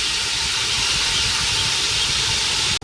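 Garlic ginger paste sizzles in a hot pan, a steady loud hiss that runs without a break and then cuts off sharply near the end.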